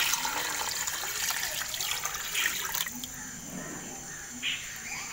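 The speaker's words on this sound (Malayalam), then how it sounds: "വെള്ളം ഒഴിച്ചു കൊടുക്കാം." Water is poured into a pot of mutton curry cooking over a wood-fired stove, a faint continuous trickle and splash lasting several seconds amid background hiss and a few clinks.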